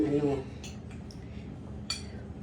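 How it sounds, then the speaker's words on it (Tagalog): Pig ear kinilaw being stirred in a bowl, with soft clinks and scrapes of a utensil against the dish, a couple of brighter clanks standing out over steady low background noise; a voice talks briefly at the start. "Halo-haloin ko na siya, mga kababayan"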